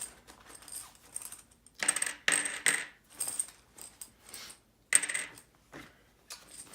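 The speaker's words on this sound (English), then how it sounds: "all players are simultaneously going to draw 4 coins from their coin purse" Metal coins from a board game drawn out of a coin purse, with a run of bright clinking and jingling bursts separated by short pauses, close and fairly quiet, no talking.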